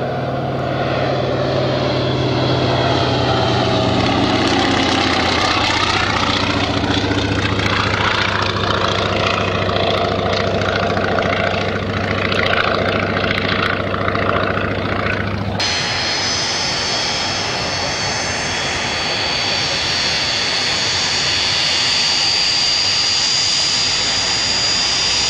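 An Antonov An-2 biplane's radial engine runs at an airshow airfield, a steady loud drone with a propeller rumble that holds throughout and shifts abruptly to a harsher, brighter roar partway through, with no voices.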